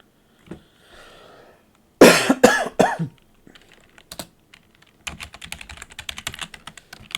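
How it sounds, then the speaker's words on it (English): A person coughs three or four times in a loud burst close to the microphone, then keyboard typing clatters in quick bursts, with faint clicks between. "Sorry for coughing in your ear, everybody."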